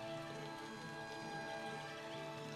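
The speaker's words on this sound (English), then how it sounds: "I'm hoping the rain will actually put the fire out on the trees." Steady rain falls in a city-building game, a soft, even hiss of drops that holds at the same level throughout without breaks, fairly quiet and with no talking over it.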